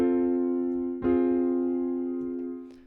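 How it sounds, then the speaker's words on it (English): Soft FL Keys piano in FL Studio, a house-style patch: two sustained mellow chords, the second struck about a second in, ringing with rich harmonics and slowly decaying, with faint extra notes near the end and no voices. "So a nice soft piano."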